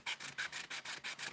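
An old sanding block rubbed on wood, seven rhythmic rasping back-and-forth strokes close up, evenly spaced and fairly loud, with no voices.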